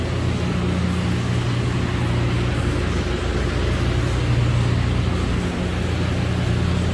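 Water runs steadily inside the A-Mill hydroelectric system, down in a cave-like underground space, making a continuous broadband rushing hiss with a low hum beneath it and no break.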